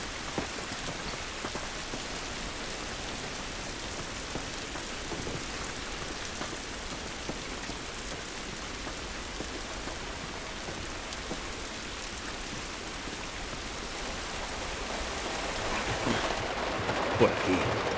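Steady rain falls outdoors in the video game The Last of Us Remastered, a constant hiss of drops on surfaces holding at an even level throughout, with a few louder splashes near the end.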